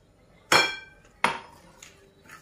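A spoon clinks sharply twice against a metal pan while ingredients and half a glass of oil are mixed for roasted chicken, followed by a few softer taps. No one speaks.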